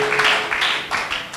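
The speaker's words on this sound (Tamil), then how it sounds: "நல்லா கைத்தட்டி ஆண்டவரை ஸ்தோத்திரம் பண்ணு." A church congregation clapping their hands in a continuous, dense patter of many palms, loud and filling the room, over a short stretch.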